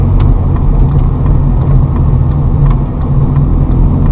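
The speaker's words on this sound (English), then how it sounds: "Ease into the gas. Accelerate. That was in third gear." A manual transmission car accelerates in third gear with a loud, continuous low engine drone and road rumble that runs unbroken from start to finish, with no voices heard.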